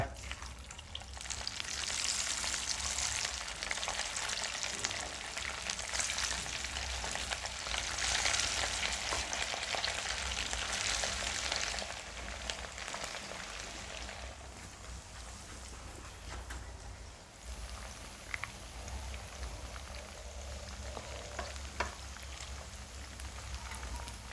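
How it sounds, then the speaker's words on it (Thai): Salmon belly sizzling in vegetable oil in a pan over medium heat, a dense, loud, continuous crackle that eases slightly partway through and keeps going with no talk. "เอาละเราจะไปทอดกัน น้ำมันพืชใส่ไป ใส่ปลาลงไป"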